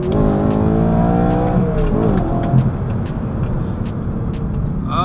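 A manual BMW E92 M3 engine heard from inside the cabin with the sunroof open, its revs rising and then dropping through a downshift with a quick blip, then settling into a steady, loud drone.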